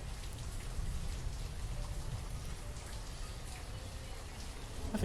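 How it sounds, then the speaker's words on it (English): Steady rain falls across a village in the city-building game Banished, giving an even, moderate patter of drops that continues for the whole stretch with no voices. "enjoy the rain for a little bit"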